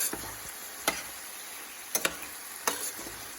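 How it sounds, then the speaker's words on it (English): Eggplant frying in a pan, a soft continuous sizzle broken by a few sharp clicks of a spatula against the pan, quiet and close. "So we have to cook this eggplant for 5 minutes."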